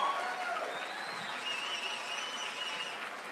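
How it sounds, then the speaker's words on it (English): Virtual crowd noise of applause plays at the start of an online recovery show, a steady, dense wash of clapping and cheering with no pauses. "Got a little crowd noise, virtual crowd noise."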